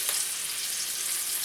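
Chicken piccata fries in olive oil in a pan, giving a close, steady, dense sizzle that crackles evenly without a break.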